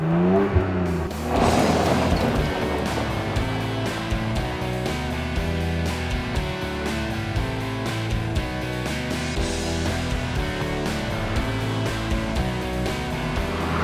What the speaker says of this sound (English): It's got a 3-litre engine that sounds gorgeous, rear-wheel drive